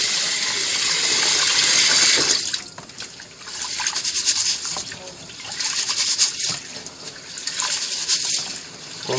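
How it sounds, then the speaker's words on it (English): Rice being washed for gungo rice and peas: loud running tap water gushes at first, then gives way to sloshing and trickling as the grains are swirled, with someone talking over it. "So we wash the rice."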